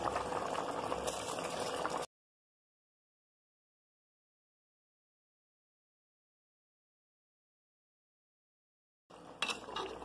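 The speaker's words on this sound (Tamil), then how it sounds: "இப்ப நமக்கு நல்லா கொதி வந்துருச்சு" Water boils in a pot for Tamil cooker kuska rice, a close, dense bubbling hiss heard in two short stretches separated by a long silence.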